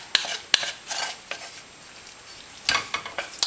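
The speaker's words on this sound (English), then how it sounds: "Mix in the sun-dried tomatoes" Sun-dried tomatoes stirred into a pan of pasta sauce, with a few sharp utensil clinks against the pan over soft scraping and a faint sizzle, close and fairly quiet.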